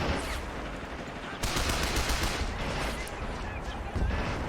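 A Sturmgeschütz assault gun in the Men of War: Assault Squad game, set in the 1941 Barbarossa campaign, fires on troops amid dense, continuous battle gunfire, with rattling bursts and heavier booms swelling partway through.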